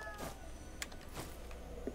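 A cat meows in the video game Ghostwire Tokyo, a few faint short mews over a steady game ambience.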